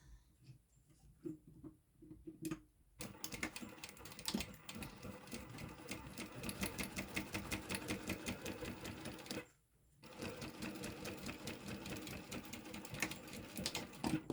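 A sewing machine stitches a seam at the seam allowance while sewing a Bartleby Sling bag, running in a fast, steady mechanical chatter close by with a brief pause partway through.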